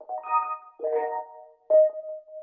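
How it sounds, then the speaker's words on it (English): Rhodes electric piano played in a higher register, a few soft sustained notes and chords in sequence, the final note ringing out clean and alone. "Moving on, we added another Rhodes, but in a higher register this time"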